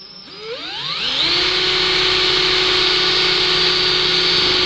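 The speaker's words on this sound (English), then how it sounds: "So that's what we're going to be using to drill these holes now that they're marked." A power drill spins up with a rising whine, then holds a loud, steady high-pitched drone while boring holes into a motorcycle luggage bag for a Harley or Indian strapless luggage system.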